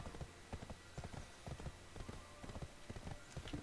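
Horse hooves clip-clop in the video game Black Desert Online, a steady, even trot of close, soft thuds over a faint background hum.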